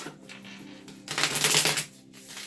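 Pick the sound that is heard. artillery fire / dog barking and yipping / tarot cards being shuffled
tarot cards being shuffled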